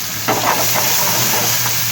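Onions, raw mango paste, green chilli and garlic fry in a pan for a Chinese-style pickle, a loud continuous sizzle close by with a few soft stirring scrapes.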